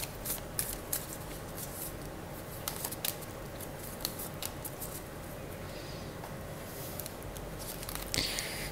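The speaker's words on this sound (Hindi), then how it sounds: "कार्ड्स मैं इंट्यूटिवली लूँगी" Tarot cards shuffled and drawn by hand, a soft papery riffling and flicking with scattered sharp snaps over a steady low hum, close and fairly quiet, with no voices.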